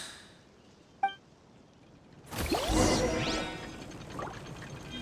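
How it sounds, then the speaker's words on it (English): A bell in the video game Genshin Impact strikes once with a short, bright ring, followed shortly after by a loud sweeping whoosh that fades out. "The bell! It rang once!"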